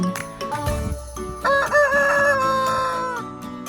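A rooster crows, a long rising and falling call following a few short clucks, with music playing underneath.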